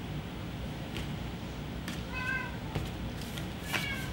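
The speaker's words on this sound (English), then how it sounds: "if you can hear that funny meow" A pet cat named Pebbles meows a few times in the background of a quiet room, the calls faint and somewhat distant, each short and rising.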